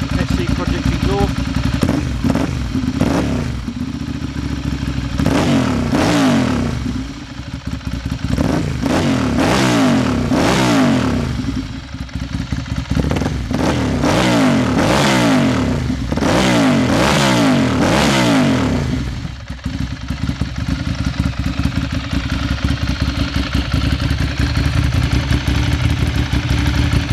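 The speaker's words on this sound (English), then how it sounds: "So we'll just give this a little flip of the throttle just so you can hear these lovely SC Project exhaust." Ducati motorcycle fitted with an SC Project exhaust, idling with a deep burble, then blipped through a series of sharp throttle revs that rise and fall loudly and close before settling back to idle.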